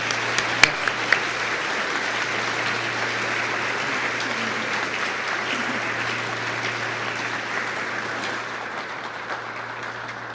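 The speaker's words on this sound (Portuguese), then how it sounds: "Vamos aplaudir o Senhor, irmão." A church congregation breaks into steady, dense applause during a testimony night, a continuous crowd clapping with a low steady hum beneath and a few sharper claps standing out near the start.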